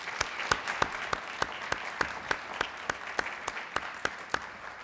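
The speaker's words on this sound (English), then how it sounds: "I would just like to give everybody one more round of applause." Audience applause at a PTA Founder's Day evening celebration, a steady round of clapping from a sizable crowd, loud and close, with no talking over it.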